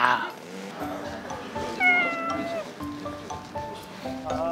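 A cat meows several times up close, drawn-out rising and falling calls outdoors near the sea, with people's voices faintly nearby.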